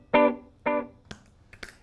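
Electric guitar with a delay effect: two plucked notes, each followed by fainter echoed repeats trailing off quickly, close and alone.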